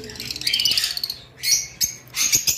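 Caged lovebirds, red-eyed pairs, give a run of rapid high chirps followed by sharper squawking calls in short repeated bursts, close by and clear.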